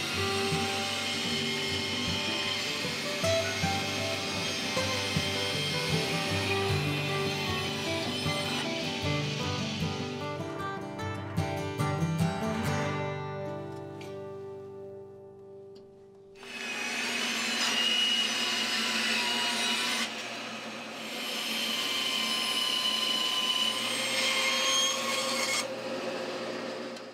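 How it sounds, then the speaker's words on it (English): A bandsaw with a dull blade cuts through nearly two-inch-thick hickory wood in a workshop, a loud steady machine whine with harmonic tones that dips briefly midway, then resumes its continuous cutting drone. "If the blade is dull like this one, it's not gonna cut straight, especially when I'm trying to cut through almost 2 inches of hickory."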